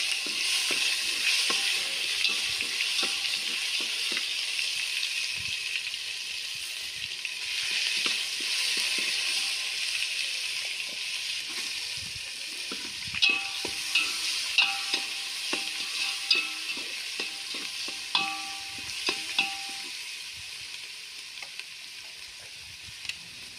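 Ginger paste with spices fries in a pan, a steady sizzle punctuated by repeated clinking and scraping strokes of a spoon stirring against metal, close and continuous with no voices.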